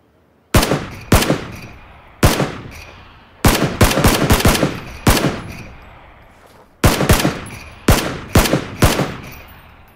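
Gunfire in the video game PUBG: about a dozen sharp, loud shots arrive in quick clusters and single cracks, with short pauses between bursts and no talking.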